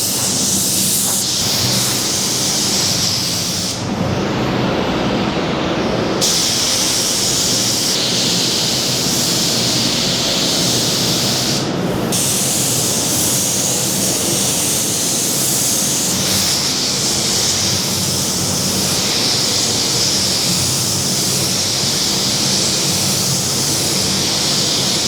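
Spray gun applying pearly green paint to an HG car door in a closed-door respray, a loud continuous airy hiss broken by short pauses between passes.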